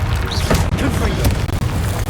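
A Confringo blasting spell explodes in the Hogwarts Legacy video game: a short, heavy boom with crackling debris, mixed with other game noise and a voice that shouts over it.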